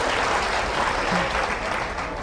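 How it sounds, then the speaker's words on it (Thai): A crowd at a cosmetics brand event gives thick, continuous applause, a loud, even roar of many hands clapping with no voices on top. "ปรบมือดังๆให้เครื่องสำอางคาง เซนค่ะ"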